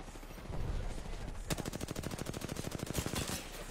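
Automatic gunfire in Apex Legends, a rapid rhythmic stream of sharp shots that starts abruptly and rattles on for a couple of seconds with a brief pause partway through.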